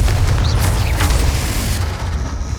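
A Confringo fire-blast spell explodes in the game Hogwarts Legacy, a loud, dense booming burst with a deep rumbling low end that fills the whole moment without pause.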